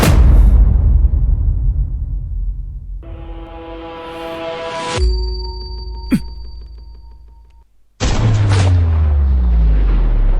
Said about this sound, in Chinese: 他们有狙击枪